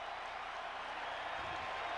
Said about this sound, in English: now kind of the second burst of energy from the crowd.